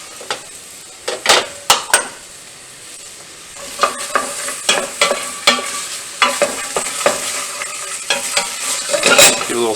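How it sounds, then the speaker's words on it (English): Spoon stirring carrots, celery, onion and potato as they fry in a soup pot, with repeated scraping clinks and knocks over a steady sizzle, close and fairly loud. "Give it a little stir."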